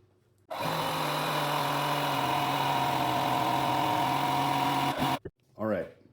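An Etenwolf S6 portable inflator runs steadily for about five seconds, inflating a 27.5 by 7.5 inch front tire from low pressure, a close, continuous motor-and-pump drone that stops abruptly, followed by brief rustling.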